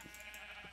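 A sheep in the Minecraft video game bleats with a short, faint cry near the end, preceded by a couple of soft blips over a quiet ambient game background.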